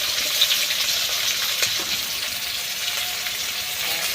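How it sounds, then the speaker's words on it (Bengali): Onions frying in hot oil with green chillies in a wok, a steady, close hiss and sizzle running continuously throughout, with a few faint stirring scrapes and no talk. "পেঁয়াজগুলোকে ভালো করে লাল লাল করে ভেজে নিতে হবে।"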